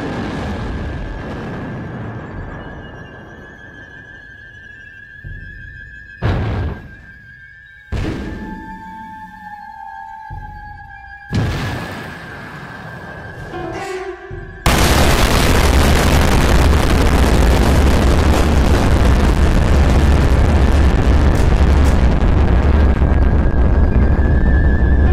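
A film-effect explosion from an unknown object striking Earth: scattered thuds and tones build to a sudden massive blast that roars loud and sustained to the end.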